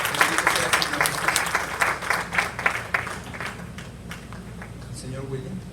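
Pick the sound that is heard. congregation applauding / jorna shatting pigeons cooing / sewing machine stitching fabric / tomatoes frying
congregation applauding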